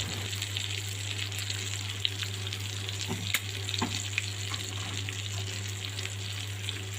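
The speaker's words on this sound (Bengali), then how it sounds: "আমার মাছ ভাজা হয়ে গিয়েছে" Magur catfish fries in hot oil with a steady, loud, even sizzle and a low constant hum underneath, broken by a few faint clicks and pops.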